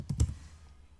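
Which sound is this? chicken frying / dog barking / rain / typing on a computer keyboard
typing on a computer keyboard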